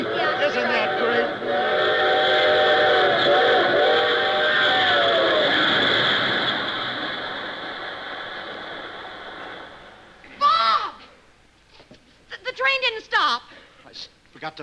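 In a 1954 television sketch, a train's whistle blows for several seconds with a long, steady wail that slowly fades. Voices come before it, and lively talk follows once it dies away.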